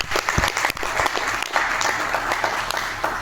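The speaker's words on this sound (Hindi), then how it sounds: "उनके लिए एक जोरदार तालियां होनी चाहिए।" A room of listeners breaks into loud, sustained applause at a Sunday closing session, dense clapping running steadily throughout.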